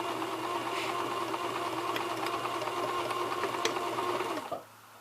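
A sewing machine stitches a costume shoe cover in a steady, fast mechanical whirr with light rhythmic clatter, running continuously for about four seconds before stopping abruptly.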